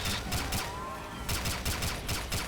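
Gunfire from Left 4 Dead 2 with a legendary weapon mod during a survival match, heard as repeated loud bursts of shots in quick clusters over steady game background noise.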